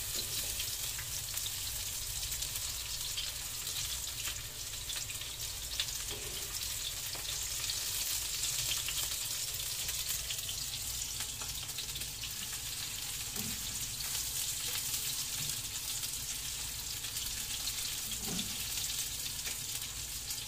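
Onions sizzle steadily in a hot frying pan, making a constant close hiss and crackle with faint stirring and no speech.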